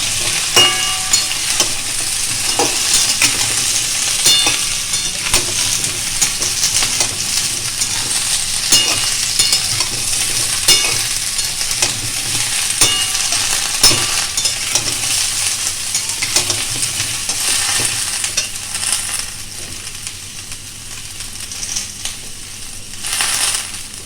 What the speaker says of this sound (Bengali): সবজিগুলো একটু ভাজা ভাজা হলে তবে আমি বাকি মশলা দেবো।